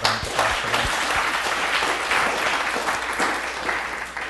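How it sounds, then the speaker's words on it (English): A crowd breaks into loud applause, many hands clapping in a thick, sustained burst that carries on without letup. "we should actually have a round of applause for them."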